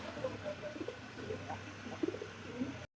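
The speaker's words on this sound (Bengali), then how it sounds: "দেখতে পাচ্ছি বিউটিমা কবুতর একজোড়া জার্মান বিউটিমা" A pair of German Beauty Homer pigeons coo softly in low, repeated rounds close by, steady over a light background hum until an abrupt cutoff.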